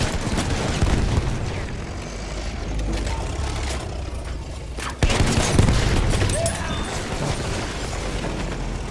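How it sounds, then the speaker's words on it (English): Battlefield 1 video game combat: machine gun fire rattles in dense, continuous bursts amid a busy battle soundscape, with a loud boom near the middle and the firing growing heavier after it. "Spotted a machine gun!"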